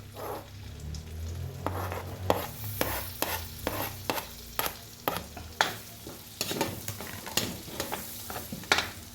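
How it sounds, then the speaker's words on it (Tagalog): Garlic sautéing in butter in a pan for spaghetti, a steady close sizzle broken by repeated sharp scrapes and clicks of a utensil stirring against the pan, alone without talk. "Lulutuin lang natin yung bawang"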